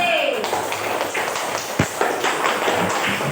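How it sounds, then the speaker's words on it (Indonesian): Students in a classroom clap for a group of classmates in a short burst of scattered, fairly close applause, with a voice speaking over it. "Tepuk tangan untuk kelompok D."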